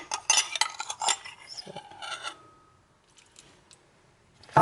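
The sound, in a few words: mixing coconut almond milk home remedy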